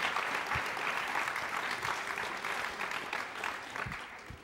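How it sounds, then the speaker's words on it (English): A comedy-show audience applauds a woman's husband as he stands up, a full, steady round of clapping at moderate volume that tapers slightly toward the end, with no talking. "Give him a round of applause."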